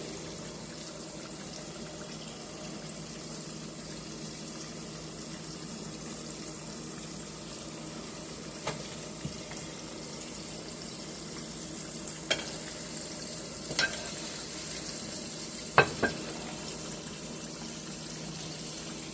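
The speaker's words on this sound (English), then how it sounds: "Buttermilk fried chicken wings. The hotter the grease, the better the fry." Buttermilk-coated chicken wings deep frying in very hot grease for extra-crispy wings, giving a steady low hiss with a few faint pops and crackles rising over it, no voices.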